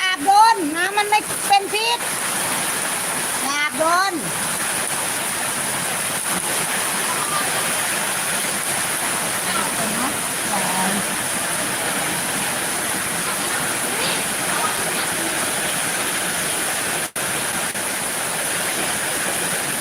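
Heavy rain pouring steadily in Surin, a dense continuous hiss throughout, with children's voices and playful shouts in the first few seconds, then mostly the downpour alone.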